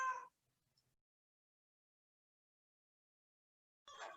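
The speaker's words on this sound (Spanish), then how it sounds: "Disculpen si se escucha un gato." A cat meows twice in a quiet indoor room, once at the very start and again near the end, with near-silence in between and no talk.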